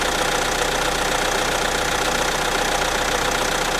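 Renault 1.6 turbo diesel four-cylinder engine idling after a cold start, a steady, even, continuous rumble with a fine rapid clatter, close and loud throughout with no talking.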